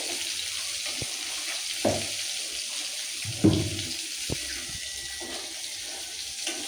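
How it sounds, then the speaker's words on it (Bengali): Water is poured into a pot of chicken curry being cooked as a thin gravy after the spiced chicken has been sautéed until the oil separates; a steady hiss runs throughout with a few soft splashes and clunks, and no one speaks. "এবার আমি জল দিয়ে দেবো যেহেতু পাতলা ঝোল করবো সেই একটু বেশি সামান্য বেশি দেবো"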